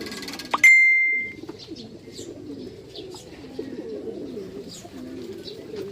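Pigeons coo repeatedly at close range as racing birds return into a loft at a training release in La Paz, Tarlac, with a brief bright ding near the start and scattered soft chirps throughout.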